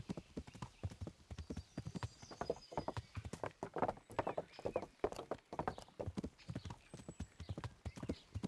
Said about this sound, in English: Must be Ulric's horse.